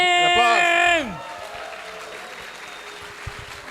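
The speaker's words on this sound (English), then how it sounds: "Applause." A voice calls out briefly, then a large crowd breaks into sustained applause and cheering at the opening ceremony of the 2024/2025 Latin America Championship, broad and even until the end.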